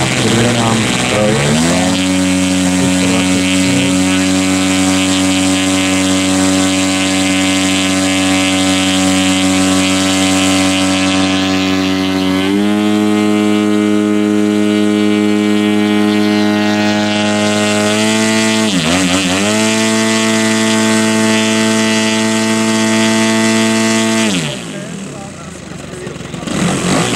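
The engine of an Extreme Fly model aircraft drones loudly and steadily at close range, with its pitch briefly dipping and rising again, before it fades toward the end.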